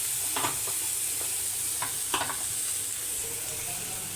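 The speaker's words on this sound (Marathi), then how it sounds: "वाटण टाकून घेतलं आहे छान हलवायचे" Ground masala paste being stirred into a potato curry frying in a pan, with a steady sizzle under a few soft scraping strokes of the spoon at close range.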